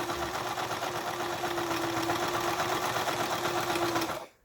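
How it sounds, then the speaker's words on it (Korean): An old home sewing machine runs a zigzag stitch with a steady, fast mechanical whir and hum, close and loud throughout, with no talking, then stops abruptly at the end. "지그재그 바느질을 하죠"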